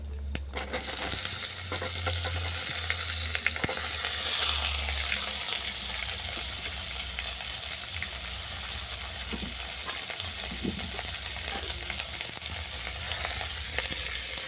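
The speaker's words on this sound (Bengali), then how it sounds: "ফোড়ন ভালো করে ভেজে নেওয়ার পর তুলে দিচ্ছি কেটে রাখা শশা" Chopped cucumber goes into hot fried spices in a pan, setting off a loud, continuous hiss and sizzle that holds steady throughout, with no speech.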